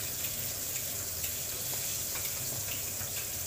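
Food frying in butter in a pan gives a soft, continuous sizzle, faint and steady with no one speaking over it.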